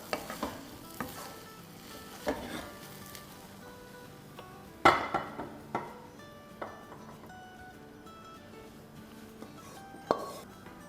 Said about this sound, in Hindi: चूल्हे को करते हैं बंद और इसको हिलाकर और डिश आउट करते हैं।